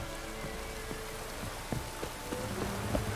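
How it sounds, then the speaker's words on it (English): Steady rain in the video game The Witcher 3 patters as a continuous wash throughout, with a few brief sharper drips and knocks standing out near the end. "Looks like rain."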